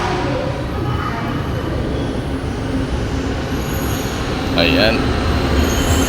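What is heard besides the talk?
LRT 2 train arriving at station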